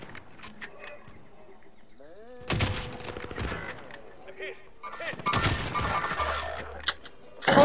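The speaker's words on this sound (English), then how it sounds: "Under fire here." Bursts of gunfire in Call of Duty: Modern Warfare, with loud volleys of rapid shots around the middle and end of the clip, preceded by quieter mechanical game noises and brief voices.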